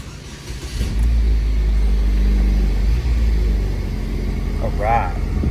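A 2009 Chevrolet HHR SS engine cranks and catches, then settles into a loud, steady low rumble at idle close by, with a person speaking briefly over it near the end.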